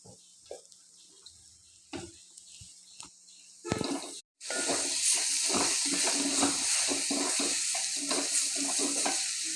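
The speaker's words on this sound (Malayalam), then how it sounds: "ഇതെല്ലാം കൂടി മൂപ്പിക്കണം. പാകത്തിന് കുറച്ചും കൂടി ഓയിൽ ഒഴിച്ച് കൊടുക്കാം." Spices frying in oil in a pan for chicken curry, a steady loud sizzle that swells after a few seconds of quieter stirring and clatter, continuing without pause.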